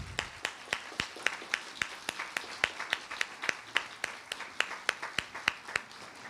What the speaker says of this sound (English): Please give our readers a round of applause.